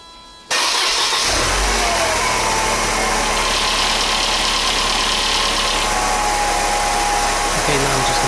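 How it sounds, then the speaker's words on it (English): A Mercedes CLK W208 engine started after an oil change: a brief quiet, then the engine catches and settles into a loud, steady idle close by. "So I'm just gonna run the engine before I put any more oil to make sure I have the right amount in there."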